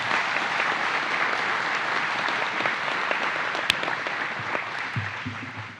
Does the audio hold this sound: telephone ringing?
no